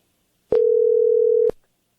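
A telephone gives one steady electronic tone lasting about a second before the call goes to voicemail. The tone is loud and clean, starts and stops sharply, and is heard alone.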